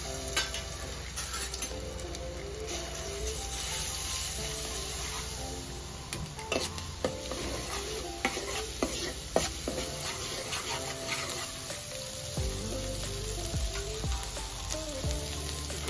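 Ginger-garlic paste, about half a spoon, fries in a little oil in a pan, giving a steady, fairly loud sizzle with occasional stirring clicks and utensil taps throughout.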